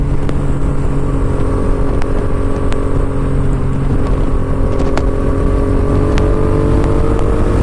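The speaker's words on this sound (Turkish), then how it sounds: "Evet, eski bir Yamaha R6." An old Yamaha R6 motorcycle engine rumbles loudly amid steady traffic noise, with a few sharp clicks; no talking.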